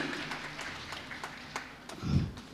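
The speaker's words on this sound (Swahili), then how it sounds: "Clap for them, clap for them." Congregation at a church Sunday service clapping for choir groups, with sparse, scattered claps and a soft low thump near the end, all fairly quiet.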